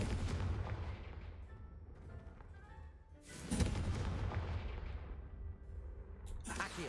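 A Confringo fire spell blasts in Hogwarts Legacy, with booming, explosive bursts over a rumbling game soundscape, loudest in the middle.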